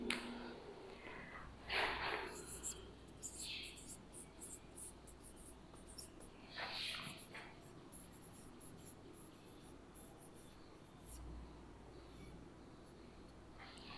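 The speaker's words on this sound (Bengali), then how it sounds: "এখানে আমি কিছু ওয়ার্ড মিনিং লিখে দিচ্ছি।" Handwriting of word meanings during an online English class, faint scratchy pen strokes in a few short bursts separated by quiet gaps, close but soft, with no talk.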